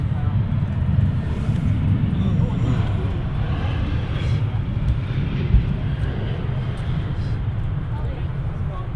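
Etihad airliner taking off from Manchester Airport, bound for Amsterdam: a loud, steady broadband jet engine roar, unbroken throughout, with a person talking over it.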